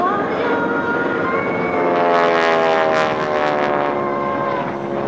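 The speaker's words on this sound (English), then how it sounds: "Dancing in the sky in the T-6 Texan." A North American T-6 Texan propeller plane flies loops and barrel rolls at a 2005 Rhode Island airshow. Its loud, droning engine rises and falls in pitch as it passes overhead.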